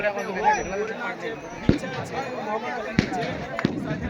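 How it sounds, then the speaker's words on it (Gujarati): Firecrackers burst at an Adivasi Gay Gohari festival near Ratanmahal, Dahod: three sharp cracks ring out irregularly over steady crowd chatter and nearby voices. "આ જે ફટાકા છે એ સાથે આ તહેવાર ઉજવવામાં આવ્યો છે"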